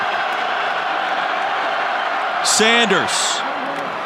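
Football stadium crowd at an Air Force at Utah State college game swelling into loud cheering on a fourth-and-short play, a roaring surge under ongoing commentary that peaks and then settles back.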